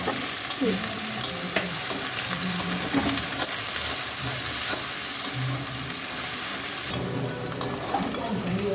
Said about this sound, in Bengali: আদা কুচি আর লঙ্কা কুচিগুলো দিয়ে দেবে এবার একটু নাড়াচাড়া করে নেবে